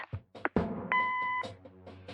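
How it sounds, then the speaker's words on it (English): In a PC point-and-click mystery game, an answering machine gives one steady electronic beep lasting about half a second, with game voices just before and after it. "Leave a message after the beep."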